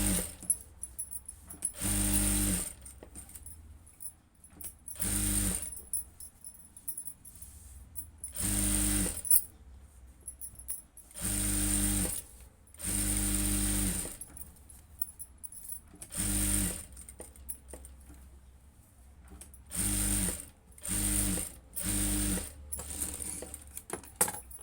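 Short bursts of a sewing machine stitching cloth, rapid whirring mechanical runs of a few seconds each separated by quiet pauses, close and fairly loud.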